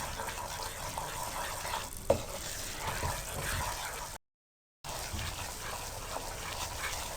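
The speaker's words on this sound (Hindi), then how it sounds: "इस दौरान आपने मुसलसल चम्मच चलाते रहना है ताकि बेसन एक जैसा भुने।" Spoon stirring besan roasting in ghee in a pan, soft continuous scraping and faint frying hiss, quiet and close, with one brief sharp knock and a short break of silence.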